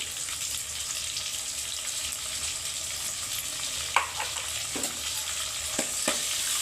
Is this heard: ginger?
yes